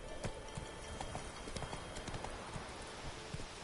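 The horse Roach gallops in The Witcher 3 with quick, close hoofbeats in a steady clip-clop rhythm. The hooves are fairly quiet and a faint whinny comes in partway through.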